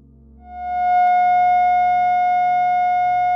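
A pure, steady electronic F sharp tone swells in after a short moment and holds evenly at one pitch, bright and sustained.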